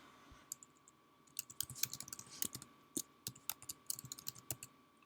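A computer keyboard clicks in quick, uneven bursts of keystrokes, close and fairly quiet, with no talking.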